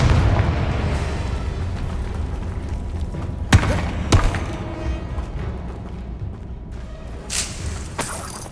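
A Confringo fire spell blasting in Hogwarts Legacy, with two sharp booming bursts standing out over a dense, rumbling game soundscape, followed by a fainter thump near the end.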